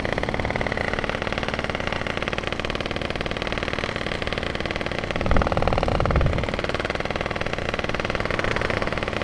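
A modified Yamaha RX King 135cc motorcycle engine runs at a steady, close idle, with a brief rise in revs midway before settling back to its even rumble.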